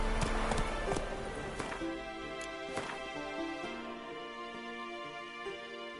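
Roach the horse gallops in The Witcher 3, hooves beating a quick clip-clop over a layer of steady game music, moderately loud and strongest in the first seconds.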